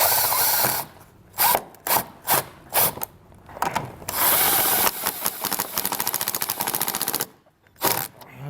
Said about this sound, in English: I'm just going to secure that to the body of our vehicle using the included self-tapping screw